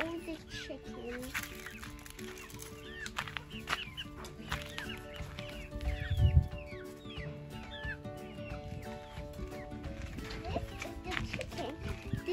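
Chickens cluck and chatter in a countryside village yard, with scattered calls throughout and a brief thump midway, fairly faint and close by.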